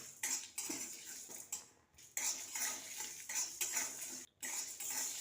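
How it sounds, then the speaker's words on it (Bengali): A metal utensil scrapes and rattles against a pan in steady stirring strokes while dry roasting whole spices such as cumin, fennel and panch phoron, with a few brief pauses. "এই সব মশলাকে শুকনো ভেজে গুঁড়ে নেব"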